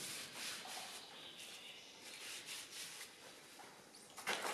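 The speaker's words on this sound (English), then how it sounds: "Clean off the bearing surfaces with brake cleaner or something similar." Camshaft bearing surfaces from a Volvo B18 engine are wiped and scrubbed clean with brake cleaner, giving a steady close rubbing and faint hissing wipe throughout, ending in a slightly louder scuff.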